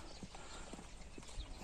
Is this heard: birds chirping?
no